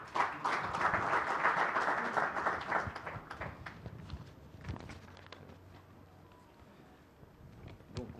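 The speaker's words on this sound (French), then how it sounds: "Permettez-moi de leur souhaiter la bienvenue en votre nom, sous vos applaudissements" Audience applause at a conference panel session, a dense wash of clapping for about three seconds that thins and fades out into quiet room murmur and shuffling.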